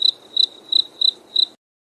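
Crickets chirp as a sound effect in five evenly spaced, sharp bursts, each a bright trill, then stop abruptly into silence.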